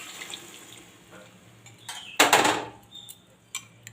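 Hot water poured into a pot of thin chicken curry with papaya and potatoes, a short splashing burst of liquid amid faint kitchen clatter and light clinks.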